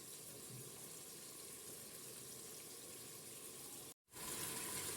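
Hot water poured onto beef frying in a pot for a stew, heard as a steady rushing, hissing pour that cuts out briefly near the end and then resumes. No voices.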